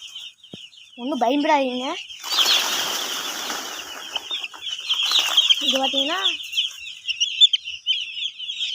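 Chickens cluck and call around someone speaking in Tamil, a few short bursts of clucking among wing flaps and rustling, close by, partly under his talk.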